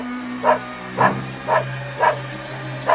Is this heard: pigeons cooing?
no